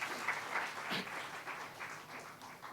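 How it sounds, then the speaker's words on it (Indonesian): A church congregation claps in applause during a sermon, a brief burst of scattered hand claps from a crowd in a hall that fades out over a few seconds. "Berikan tepuk tangan dong."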